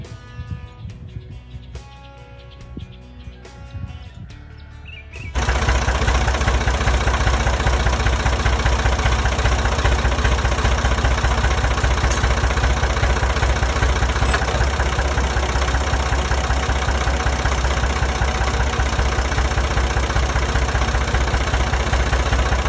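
A tractor engine idles loudly and steadily at close range on a farm while fence work goes on, starting up after a few seconds of quieter outdoor sound and then running with a constant low rumble.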